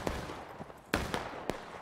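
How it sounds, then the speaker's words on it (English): Gunshots in the Civil War-era shooter game War of Rights, several sharp cracks spaced about half a second apart, the loudest close by, standing out over a steady background hiss. "They gotta be right really close with those gunshots. I can hear it."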